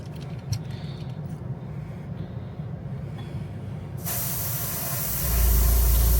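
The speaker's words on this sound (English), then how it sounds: "You're spraying it straight out of the bottle." Candy paint sprays straight from the bottle onto a fishing lure in a steady hiss, first soft and then swelling louder in the final seconds, with no talking.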